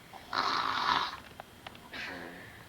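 Two drawn-out snores, close and fairly quiet, with brief clicks between them; likely a person imitating snoring.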